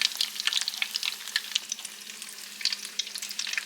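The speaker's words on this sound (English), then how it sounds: "I've got some more hanging out over here, just waiting on their turn to take a dip in the oil" Grit puppies frying in hot oil, a steady crackling sizzle with bright popping bubbles, close and continuous, with no talking.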